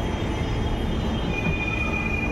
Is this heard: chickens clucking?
no